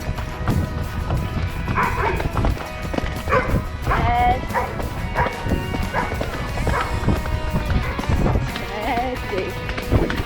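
A dog barks repeatedly close by on a trail beside a horse being ridden at a canter during endurance training, with hoofbeats, movement and a rider talking over the sounds.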